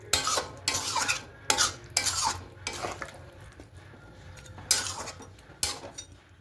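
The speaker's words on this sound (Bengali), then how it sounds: "খুব ভালো করে মিশিয়ে নেব।" Chicken with ghee mixed thoroughly with a spoon in a pot, giving a series of loud close scraping and clattering metal strokes over a faint sizzle.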